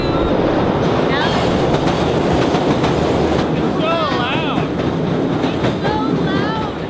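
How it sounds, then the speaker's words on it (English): A loud train rumbles past at close range along the Chicago Riverwalk, a continuous heavy roar with rattling wheels and several high metallic squeals, while people talk faintly. "what sound does the train make?"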